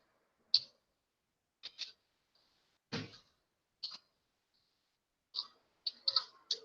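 Fingers tap on a small, cramped computer keyboard, producing scattered sharp clicks in short bursts separated by silence, close but quiet.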